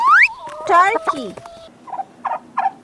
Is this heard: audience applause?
no